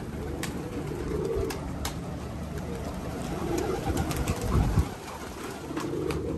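Pigeons coo steadily inside a loft of red-colored birds, a dense, close layer of low murmuring calls with occasional wing flutters and shuffling throughout.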